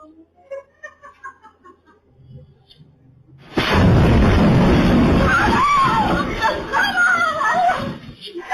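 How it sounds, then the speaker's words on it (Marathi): CCTV footage captures a massive explosion in Azad Nagar, Bhubaneswar: a few faint sounds, then a sudden, very loud blast that roars and rumbles on for several seconds. "इथल्या आझादनगरमध्ये एक इतका मोठा स्फोट झाला की संपूर्ण इलाका अक्षरशः हादरून गेला"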